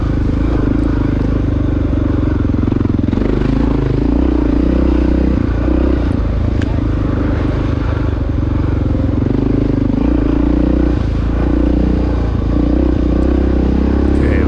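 A 1993 Honda XR600 dirt bike descends big hills during a cross-country race, its single-cylinder engine droning loudly and continuously close by, with rumbling, clattering bumps over rough ground.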